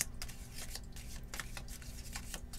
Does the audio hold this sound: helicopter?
no